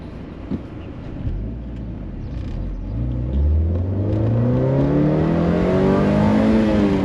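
A Saturn Sky roadster's engine heard from inside steadily climbs in pitch as it accelerates, a rising throaty drone over road rumble.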